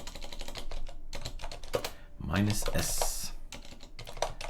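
Rapid keystrokes on a computer keyboard as a Linux terminal command is entered, close and crisp, clattering under a man's ongoing speech.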